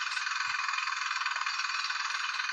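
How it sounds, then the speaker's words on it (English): Worker drilling into the ground along a street: a steady, loud, dense rattling roar that holds without pause from start to finish, close by and alone. "we can hear this one along the street when a worker is drilling into the ground"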